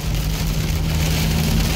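Heavy winter storm rain pounds steadily on a truck parked facing into the wind, a loud, dense drumming roar with a low hum of the vehicle beneath.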